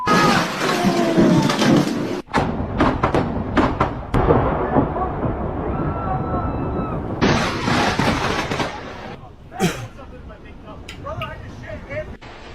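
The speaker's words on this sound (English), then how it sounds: "of lightning hitting stuff" Thunder from lightning strikes, played back from a recording, rumbles and cracks loudly and continuously, with sharp bursts near the end and a voice talking over it at times.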